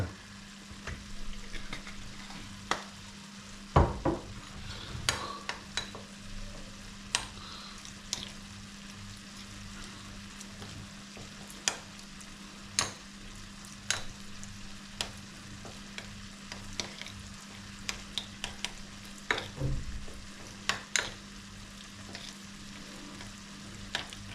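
Vegetables fry in a pan of sauce with extra virgin olive oil, a low steady sizzle broken by scattered scraping taps from stirring, fairly faint and without voices.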